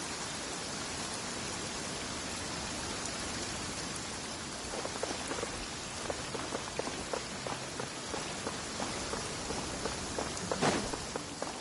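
Steady downpour in a game world, a dense hiss of rain with scattered droplet ticks and patters on surfaces growing more distinct in the latter half, continuous and fairly even.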